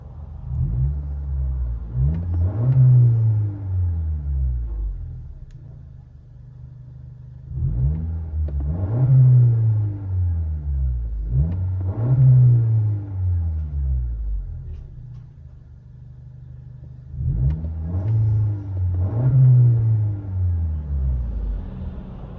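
Muffled from inside a 2021 Honda Accord 2.0L turbo with muffler delete, the engine revs repeatedly in bursts, deep exhaust drone rising and falling with a low rumbling idle between pulls.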